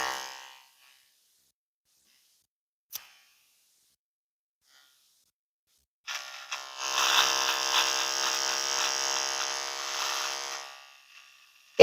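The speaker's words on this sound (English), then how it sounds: "I can just tell by looking at the teeth that it's going to be a more gentle clipper." A Brock electric hair clipper runs during a barber's haircut, its close, steady buzz starting partway through and holding for several seconds before cutting off, after a quiet stretch with a small click.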